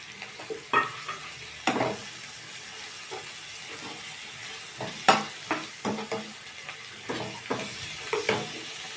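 Chopped green chillies, coriander, mint and curry leaves with ginger-garlic paste frying in a pan, giving a quiet bed of sizzle broken by repeated stirring scrapes and clatters, with no talk.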